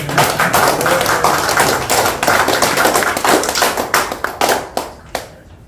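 An audience at a Korean history lecture breaks into dense clapping that holds steady, then thins into scattered final claps and stops, close and without talk.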